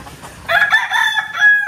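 Hens in a backyard coop where they lay eggs give loud, close clucking calls for about a second and a half, with a drawn-out crowing-like cackle and no talking.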